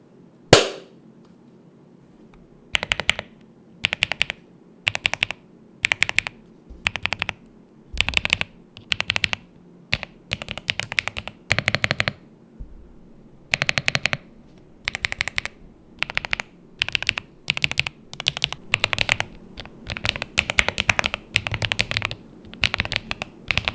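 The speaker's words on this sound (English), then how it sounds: "let's do a quick sound test so we know how the Gateron Queen sounds like" A mechanical keyboard fitted with Gateron Queen switches is typed on up close, in quick bursts of crisp clacking separated by short pauses, with the runs growing denser toward the end and no talking.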